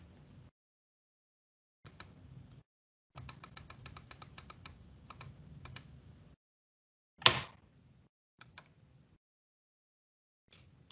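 Keys on a computer keyboard click in short, irregular bursts, separated by silent gaps, with one louder thump partway through.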